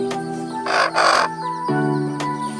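A young frizzle hen, about four and a half months old, gives a few drawn-out, tonal calls in close succession, loud and near with no talk.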